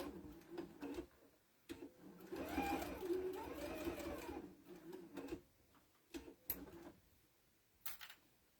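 A sewing machine running a bigger stitch around the edge of an Easter fabric crayon holder, heard close in short bursts of rapid mechanical stitching broken by pauses and small clicks.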